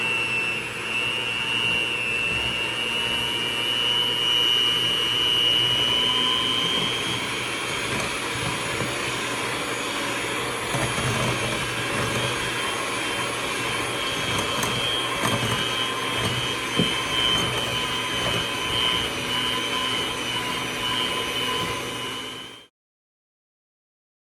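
Electric mixer beating butter and sugar together for a cake, a loud steady whirring motor hum that runs unbroken for over twenty seconds, then cuts off abruptly.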